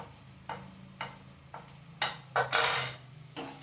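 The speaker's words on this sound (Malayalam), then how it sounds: "ഇളക്കി കൊടുക്കട്ടെ" Chilli, coriander and garam masala powders stirred in a cooking pan for a butternut squash dish, several close spoon scrapes and clinks against the pan over a faint sizzle, ending in a louder stirring burst.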